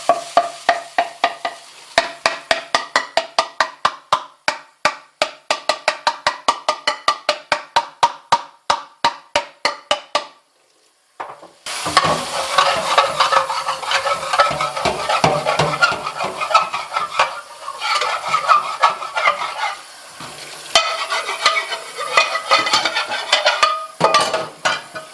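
Repeated sharp metallic strikes on a Blue Diamond pan, breaking up burnt food, first in a fast regular series, then after a brief pause a denser, noisier stretch of scraping and banging.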